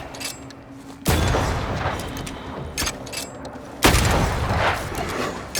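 Gunshots in the game Banishers: Ghosts of New Eden, two heavy booming blasts a few seconds apart, each followed by a lingering rumbling tail over ambient game sound.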